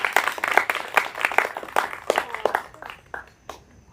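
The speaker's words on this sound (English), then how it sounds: "Round of applause to yourselves" Student storytelling showcase audience claps in a lively round of applause, dense at first and thinning into scattered individual claps before fading out.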